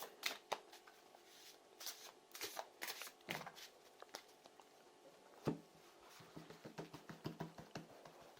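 Tarot cards shuffled by hand in a series of quick, crisp riffling and patting bursts, close and fairly quiet, with no talking.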